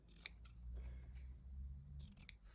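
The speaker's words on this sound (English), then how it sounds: "you can work with scissors and you can trim down following the lines" Scissors snip through fabric while trimming along marked lines of a hexagon quilt block, giving a few sharp, close cuts at the start and again near the end, with low handling rumble between them.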